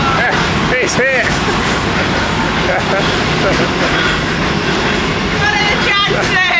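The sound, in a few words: train passing over narrowboat on canal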